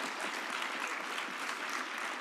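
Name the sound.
audience applause during a speech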